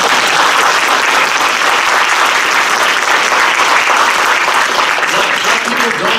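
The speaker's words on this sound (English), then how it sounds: "Could we give one more round of applause?" Loud, steady applause from a lecture audience at an evening community-history talk, dense clapping from many hands filling the whole moment without a break.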